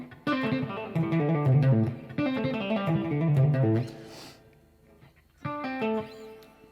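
An electric guitar plays a pentatonic sequence as a run of quick picked notes in two repeating phrases, then a short pause and a fresh phrase, clear and up front.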